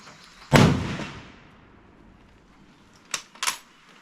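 A single loud Mosin Nagant rifle shot cracks and rings out with a trailing echo, followed a few seconds later by two sharp mechanical clacks.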